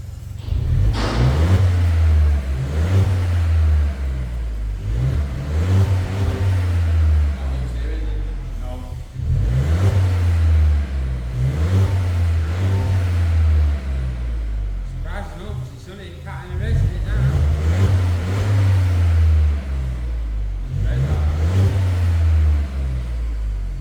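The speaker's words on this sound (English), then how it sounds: "Better have a little warm up and we'll get you some revs" An Audi A3 8V with a modified exhaust being revved repeatedly while parked, loud rising engine blips and throaty drops in several bursts close by, with someone talking between them.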